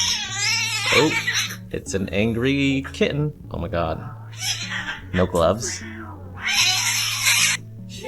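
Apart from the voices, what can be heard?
angry cat yowling at emergency room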